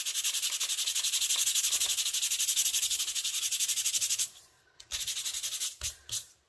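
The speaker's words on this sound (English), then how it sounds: "why don't we just do a little sanding so you can see what that looks like" Steady rhythmic rubbing of sandpaper over embossed paper, close and loud, then it stops and a few short separate scrapes follow.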